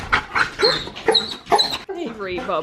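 Dogs at a house whimpering and yipping up close in short, pitched bursts, several whines in quick succession followed by a longer wavering whine.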